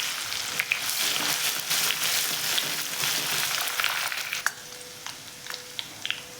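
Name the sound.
garlic and coriander paste frying in oil in a kadhai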